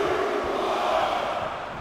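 A large wrestling arena crowd at a Survivor Series War Games match roars in a dense, sustained wash of cheering and chanting, loud and continuous, easing slightly at the end.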